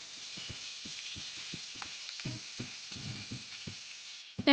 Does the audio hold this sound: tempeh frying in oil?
yes